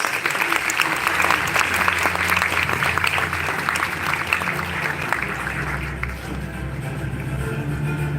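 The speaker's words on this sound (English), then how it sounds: "Let's welcome her with a big round of applause." A large audience applauds steadily at a university gathering in welcome of the university president, Dr. Teresita V. Atienza, a dense, continuous wash of clapping that holds nearly constant and eases slightly toward the end.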